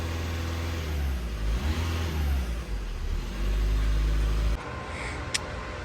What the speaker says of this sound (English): So I'll rev it up and down a little bit for a few minutes.